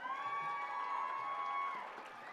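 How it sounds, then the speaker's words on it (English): Crowd applause and cheering for young lady contestants at a pow wow stage event, a dense, loud wash of clapping with whoops and high shouts held steady, easing slightly at the end. "give a big round of applause for all the young ladies"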